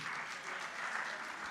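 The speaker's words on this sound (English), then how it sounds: "Please, a round of applause, please." Applause from a church congregation at a Sunday gospel service, dense and steady for the whole stretch, fairly distant and moderately loud with no break.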